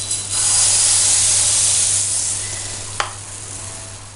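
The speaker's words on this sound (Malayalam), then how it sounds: "മാവ് ഇപ്പം ഒരു ഒച്ച കേൾക്കുന്നില്ലേ, അപ്പോൾ അത് പാലപ്പച്ചട്ടി ചൂടായതിന് ശേഷമാണ്" Rice-flour appam batter hits a hot appam pan over medium heat and bursts into a loud, hissing sizzle that slowly softens, with a sharp click from the pan partway through.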